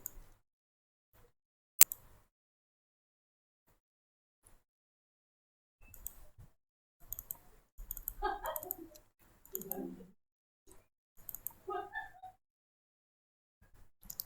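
A computer mouse double-clicks a few times, crisp near-field taps that stand out sharply in an otherwise quiet room, with someone speaking in between.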